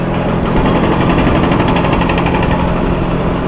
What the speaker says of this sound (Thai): มีการก่อสร้างปรับปรุงนะครับทางการ